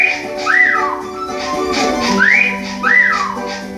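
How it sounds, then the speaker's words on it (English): Underwear pickup chime from the SpongeBob SquarePants: Battle for Bikini Bottom video game, heard as three bright rising-then-falling whistle-like tones repeating over steady game background sound. "Every time you get that underwear, it's always gonna make that noise."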